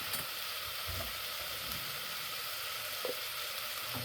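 Three tablespoons of butter melt in a pan on low heat, giving a faint, even sizzle with a couple of light clinks from the pan.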